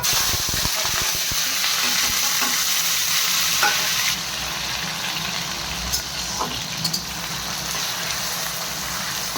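Onion, tomato and green chillies frying for chow mein in a pan, a loud continuous sizzle with scraping stir strokes early on, easing to a softer, steady crackle partway through.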